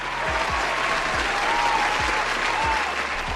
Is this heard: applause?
yes